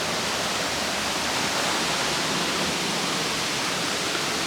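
A waterfall at Monte Gelato gives off a steady, dense rushing roar of falling water, constant and broadband with no breaks and no voices.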